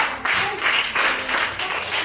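A classroom applauding the red group after a lesson on integers, a dense wash of clapping hands from many students filling the room, steady and fairly loud with slight swells.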